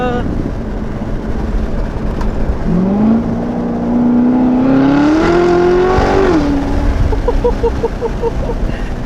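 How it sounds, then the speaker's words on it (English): A Chevrolet Corvette with a loud exhaust mod accelerates hard, engine pitch climbing in a long rising whine over steady road roar, heard from inside the car while someone talks excitedly over it. "this Corvette has got some freaking torque"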